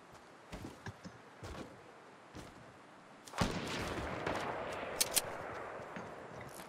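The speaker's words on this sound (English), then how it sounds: "He's being sniped at from somewhere else." Sniper gunfire in a video game: scattered sharp cracks ring out at a distance, followed by a louder, denser stretch of firing with a couple of crisp, close shots near the end.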